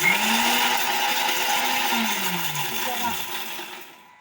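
A mixer grinder blending tomato, garlic and tamarind whirs steadily with a droning motor tone, pitch sliding downward as it spins down near the end.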